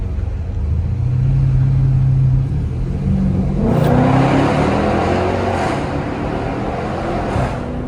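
A car engine revs up inside a tunnel on a city street at night, climbing in pitch with booming echoes, easing off as the gear changes, then rising again, loud and close.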